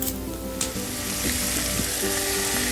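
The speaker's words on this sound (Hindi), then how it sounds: "उबली हुई चिकन डाल के उसको अच्छी तरह से फ्राई करेंगे ताकि चिकन की स्मेल ना रहे" Onion and boiled chicken fry in a pan, a loud continuous sizzle with a few stirring scrapes, close up and with no talk.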